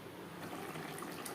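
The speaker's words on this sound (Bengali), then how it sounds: "দিয়ে দেব জল।" Water poured into a simmering tilapia fish curry gravy, a soft, faint splashing trickle that swells slightly after a moment and stays low and close.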